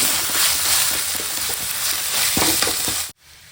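Ginger garlic paste sautéing in a pan makes a loud, close sizzle with rhythmic stirring scrapes, cutting off abruptly near the end.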